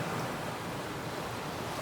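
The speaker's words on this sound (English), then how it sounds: "Lapping waves of the Mediterranean Sea." Mediterranean Sea waves lapping close by, a steady soft wash of surf with wind noise and no voices.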